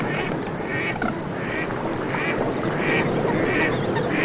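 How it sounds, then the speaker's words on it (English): Ducks quack amid a dense chorus of water birds at a refuge in the Central Arabian desert, the calls repeating steadily through a busy, continuous wash of bird noise. "Thousands of water birds visit this refuge."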